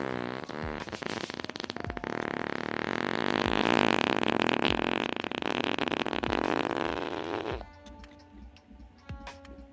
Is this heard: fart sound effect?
yes